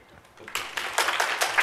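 An audience applauding to welcome a speaker at a g0v Summit talk, the clapping swelling quickly from quiet to a steady, dense patter of many hands.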